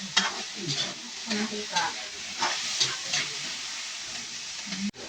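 Garlic and onions sauté in a home kitchen pan with a steady sizzle, broken by repeated stirring scrapes and clinks close by, while a voice speaks softly now and then.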